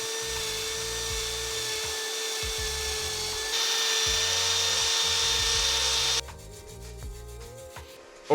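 Rust being stripped from Yamaha XS 650 motorcycle parts with a power tool: a steady high whine with grinding, rubbing contact, louder midway, then shifting to a rougher tone near the end.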